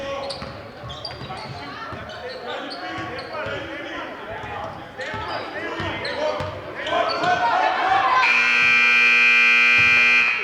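Sneakers squeak and balls bounce amid crowd noise at a girls' varsity high school basketball game, then a loud, sustained end-of-quarter buzzer blares over the arena for the final couple of seconds.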